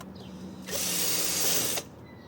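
A power drill whirs steadily for about a second, boring through a plastic Volkswagen windshield washer reservoir at close range, then stops abruptly, leaving a quiet room hum.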